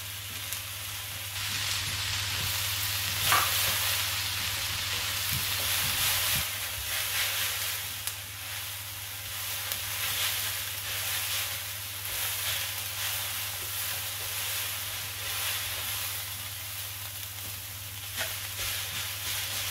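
Bean sprouts and noodles for a vegetable chow mein stir-fry in a hot pan. A steady hissing sizzle runs for the whole stretch over a low background hum, with occasional clinks of stirring.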